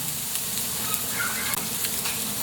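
Onion and tomato hit a pan with garlic that is already browned, sizzling and frying steadily, with soft crackles and occasional stirring scrapes, close and alone.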